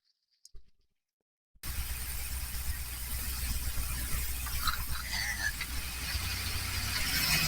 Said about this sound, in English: let's see if we can listen to the engine